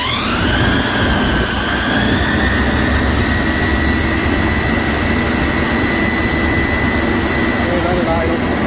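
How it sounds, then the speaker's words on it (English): A 2007 Toyota 2.7 engine revs up after a reinstall, a steady high-pitched internal whine riding loudly over the rumbling motor; the whine climbs and then holds at a constant pitch. "Listen to this high frequency whine."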